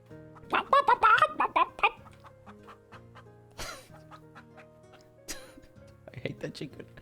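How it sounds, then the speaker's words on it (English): A chicken clucks in bursts of several rapid, close calls, mixed with people talking. "No, I think it was just the chicken."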